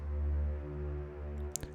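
A low, sustained string layer recorded at Abbey Road, unprocessed, with deep drones holding steady for a couple of seconds and a brief faint click near the end, quiet and soft.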